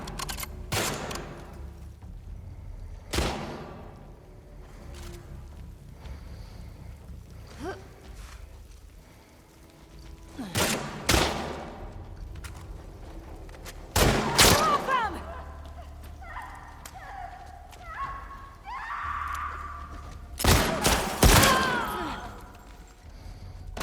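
Gunfire from a fight in The Last of Us Part 2, set in an elementary school, comes as scattered loud shots and short bursts with quieter stretches between, under occasional voices and game sounds.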